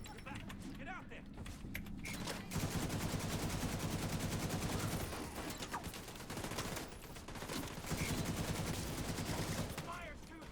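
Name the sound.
heavy gunfire in the video game The Division 2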